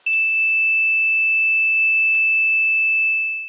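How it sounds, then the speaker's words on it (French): An alarm on an infrared beam barrier circuit gives one continuous, loud, high-pitched electronic tone that starts abruptly and holds steady for several seconds before cutting off. "s'il y a une coupure de rayon infrarouge un peu plus longue, l'alarme va se déclencher."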